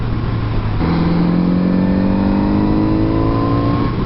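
A Kawasaki Z900RS motorcycle engine revs up smoothly and holds a steady, rising drone close by, with no talking over it.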